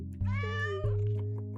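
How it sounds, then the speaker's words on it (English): A cat in the video game Willows: A Dream of Shadows gives two drawn-out meows in quick succession, clear and close, over a steady low game background hum with no talk. "Mary, it's a cat."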